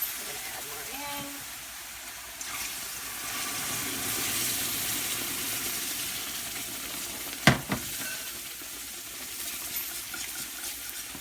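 Red chili sauce for chicken mole rojo sizzles and pops in a hot pan, a steady loud frying hiss with one sharp clatter partway through.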